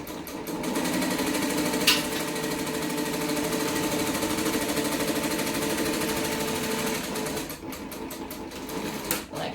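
A sewing machine runs in a steady, fast, continuous whir as it stitches the bottom seam of fabric for a Tribbiani Traveller bag. The stitching breaks off briefly near the end.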